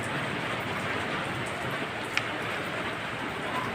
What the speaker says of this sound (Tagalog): malakas na ulan na hapon